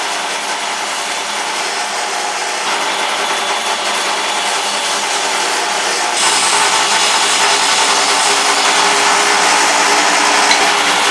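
A saw rips lengthwise through wooden pieces being cut down to 1.5 inches for a mallet head, a steady, continuous, close and loud buzzing cut that grows slightly louder partway through, with no talking.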